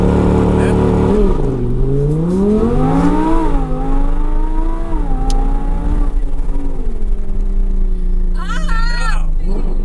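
An Audi R8 engine revving as it accelerates, loud and close, its pitch climbing and falling through several rises before settling into a steady drone, with people talking over it near the end.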